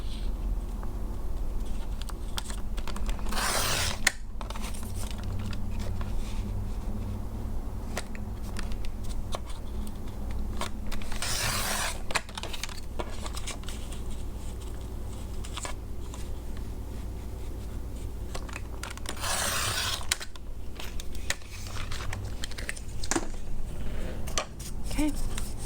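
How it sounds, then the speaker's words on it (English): A paper cutter slicing paper strips for a toilet paper roll craft, three long swishing cuts spread across the span, with soft handling rustles and faint room noise between them. "I'm going to use my paper cutter again"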